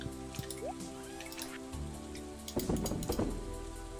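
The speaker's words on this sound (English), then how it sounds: "cause it is raining" Rain falls in Stardew Valley as a soft patter of drops under a tonal game score, the shower growing denser and more splashy toward the end.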